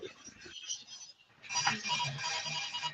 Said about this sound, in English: Oh, it's someone's cell phone's ringing outside.